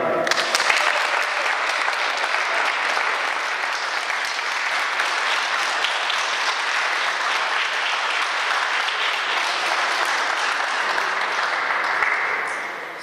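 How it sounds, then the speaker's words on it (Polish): An audience at a table tennis match event in a hall breaks into loud, sustained applause, a dense, even roar of clapping that holds for over ten seconds before tapering slightly at the end. "Myślę, że specjalne brawa dla naszej Agatki."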